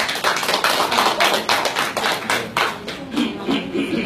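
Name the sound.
audience applause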